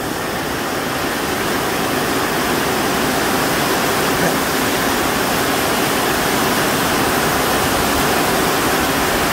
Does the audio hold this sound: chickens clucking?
no